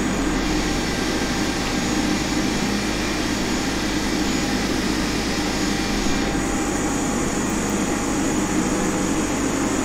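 Steady, loud jet engine roar with a constant broadband hiss from an Air New Zealand Airbus A320neo starting to roll at Auckland in Microsoft Flight Simulator 2020, droning evenly throughout with no voices.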